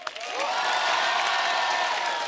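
Studio audience at The Kapil Sharma Show bursts into applause and cheers to welcome actor Ayushmann Khurrana, swelling quickly after a brief start and sustaining a full, even roar with some whoops on top.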